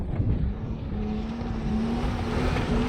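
A rally car built on a budget drives toward a turn with a steady engine hum and road noise that rise a little as it approaches from a moderate distance, with no talking.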